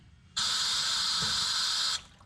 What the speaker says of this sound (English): when I squeeze the trigger right there, hopefully we'll get some water out of here